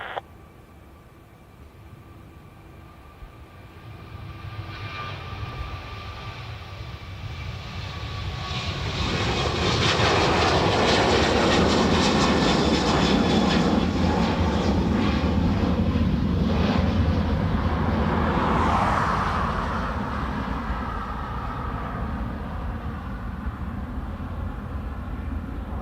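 An airliner at Dublin Airport roars on the runway, its engine noise swelling from a moderate rumble into a loud, sustained broadband roar that holds and slowly eases, with no voices.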